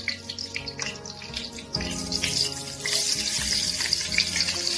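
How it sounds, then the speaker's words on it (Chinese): Cured pork hits hot oil in a wok for stir-frying with mushrooms. The sizzle starts moderate, then swells into a louder, continuous crackling hiss about halfway through, with no talk. "放入腊肉"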